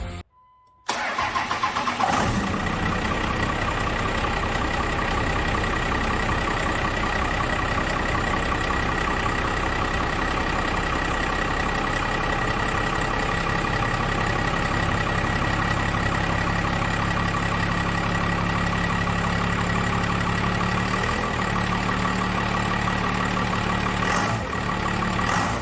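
A 12-valve Cummins diesel with a P-pump and about 687,000 km fires up after a brief silence and settles into a loud, steady, close idle with an even clattering rumble that runs to the end.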